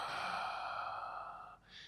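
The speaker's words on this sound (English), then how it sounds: "breathing out" A single long, soft exhale during a power yoga class, a steady breathy rush close to the microphone that fades out, followed by a brief quieter breath sound.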